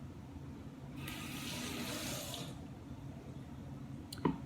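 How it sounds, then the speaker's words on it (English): Water from a kitchen sink tap runs briefly and quietly while vegetables are rinsed to wash out seeds, followed by a single small knock. "I'm going to rinse all of this and get the rest of those seeds out"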